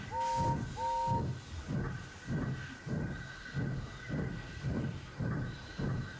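Gordon the steam engine puffing away in a steady, rhythmic chuff of repeated bursts, with a whistle-like double tone at the start and a soft hiss running underneath.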